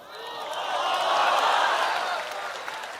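Audience clapping hands at a religious lecture, a swelling wash of many hands applauding together that rises and then gradually fades, with no voices over it.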